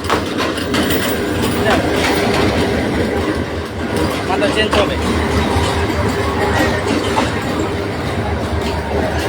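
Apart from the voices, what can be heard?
train arriving at Bhairab railway station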